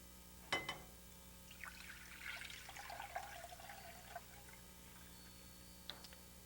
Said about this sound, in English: Then we're going to add cold water.